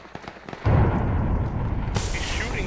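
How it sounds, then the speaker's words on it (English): In the PUBG video game, a gunshot lands as a sudden heavy boom with a rumbling tail, followed by a second burst of harsher, hissing noise a moment later. "He's shooting from somewhere in the 335 to 350 area"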